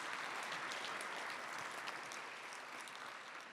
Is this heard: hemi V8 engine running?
no